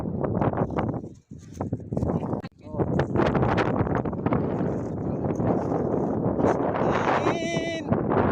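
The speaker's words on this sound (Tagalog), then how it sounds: "Hangin!" Wind buffets a microphone during a boat ride from Sual to Alaminos, a loud continuous rumble with brief dropouts, while people talk over it and a thin whine rises near the end.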